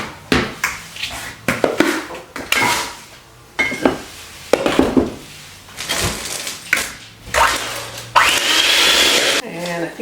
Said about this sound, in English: we're just gonna use our hand mixer here to mix this all up